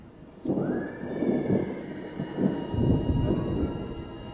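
A horse whinnies loudly and at length, the neigh rising and then shuddering over a low rumbling background.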